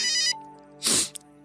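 Mobile phone ringtone for an incoming call: a repeating melodic tone fills the opening moment, then a loud brief burst follows with a short blip after, all close and without talk.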